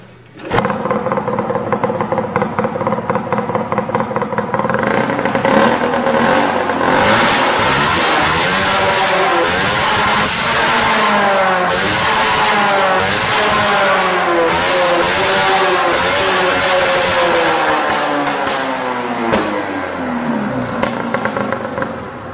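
A 600cc Yamaha Phazer snowmobile engine fitted with a homemade exhaust and hood stack runs loud and close, rising and falling through several throttle blips over a steady idle.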